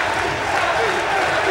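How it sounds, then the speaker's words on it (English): A crowd at a Bitter Cold Showdown action-sports event chants and cheers in a loud, dense, continuous roar with no breaks. "And the crowd breaks into a happy chant."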